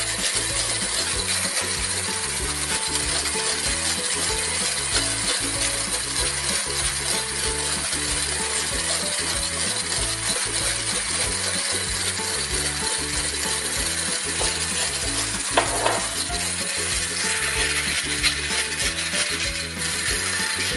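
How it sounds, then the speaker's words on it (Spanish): Chocolate muffin batter with yogurt and oil is whisked in a bowl, a fast, steady, rhythmic clicking and tapping that runs continuously at close range with no voices. "Ahora le hemos añadido el yogur y vamos a batir de igual manera."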